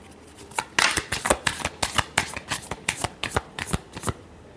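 A deck of tarot cards is shuffled close up in a quick run of about a dozen crisp riffling bursts. The bursts come in a steady rhythm, then stop, with no voice.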